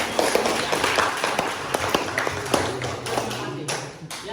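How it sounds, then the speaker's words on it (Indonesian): A classroom claps for a presenting student group, with scattered, uneven hand claps and taps of moderate loudness continuing for several seconds amid room noise. "tepuk tangan dulu kelompok"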